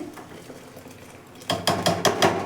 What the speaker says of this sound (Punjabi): ਤੇ ਹੁਣ ਆਪਾਂ ਸਾਰੀਆਂ ਚੀਜ਼ਾਂ ਨੂੰ ਇੱਕ ਵਾਰ ਚੰਗੀ ਤਰ੍ਹਾਂ ਦੇ ਨਾਲ ਮਿਲਾ ਦੇਵਾਂਗੇ